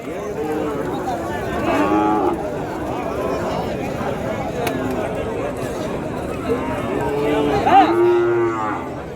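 Cattle and cows at a rural Tamil Nadu livestock market moo repeatedly at moderate distance over a continuous crowd hubbub, with people talking nearby.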